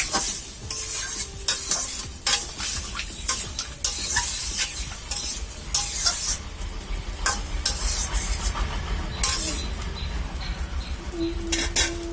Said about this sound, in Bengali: টমেটোতে নাড়াচাড়া করে দিলাম।